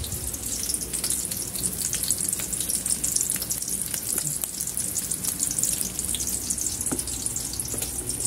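Steady, close sizzling and crackling of smoked fish (tinapa) frying in hot oil, continuous throughout with small pops and no voices.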